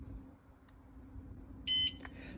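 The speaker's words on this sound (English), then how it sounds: "That one beep tells me the alarm is armed and ready to go." A single short electronic beep from a car's catalytic converter alarm being armed, sounding clearly once over low steady background hum, followed by faint brief clicks.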